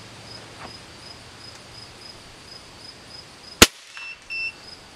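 A single sharp gunshot fired through a cheap chronograph outdoors, one loud crack partway through over steady background insect chirping, followed by faint electronic beeps.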